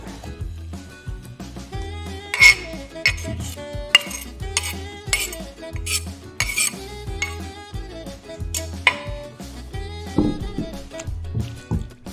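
A utensil scrapes and clinks against a bowl as chopped kimchi and chives are mixed into jeon batter. The stirring is close and rhythmic, with wet squishes between the metallic taps and no talking.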